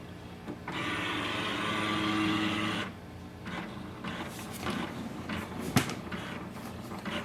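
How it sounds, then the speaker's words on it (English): An HP OfficeJet Pro 8130e printer powers on, whirring steadily for about two seconds before its mechanism shifts into quieter motor runs, clicks and a sharp clunk, close and alone. "first we have to plug in the power cable and switch on the printer."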